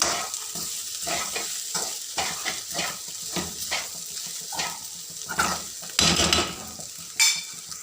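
Meat sizzles and fries in a pan with garlic and spices, with steady crackling broken by repeated stirring scrapes and a few louder bursts of sizzle toward the end.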